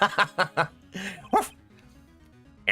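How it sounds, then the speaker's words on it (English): Several quick, close dog barks from the Ace Attorney video game come in a rapid burst, then give way to soft game music. "He's a good dog."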